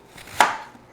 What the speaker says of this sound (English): we're going to put it in the food processor and just chop it up a little